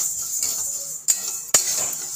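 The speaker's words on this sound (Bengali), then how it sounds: "ডালটা এইভাবে সবসময় খুন্তি দিয়ে নাড়াতেই থাকবে" A metal spatula scrapes and knocks against a pan as lentils fry, with two sharp clinks standing out over a steady sizzling hiss.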